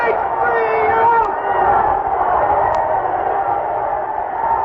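A big crowd at a baseball game in a radio drama breaks into a sustained roaring uproar, loud and close. The roar stays dense and steady the whole time, with the odd shout rising out of it.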